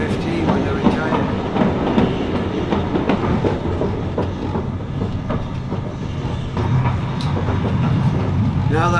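A steam train runs on a heritage railway, the Keighley and Worth Valley line, with steady clickety-clack of wheels over rail joints, loud and close throughout, with a voice faintly under the rolling noise.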